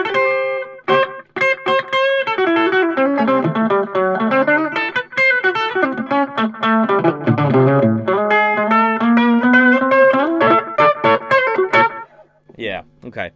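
Plucked electric guitar notes and chords with a rockabilly-style repeating echo trailing each phrase, moderately loud and close, ending in a few scattered strums.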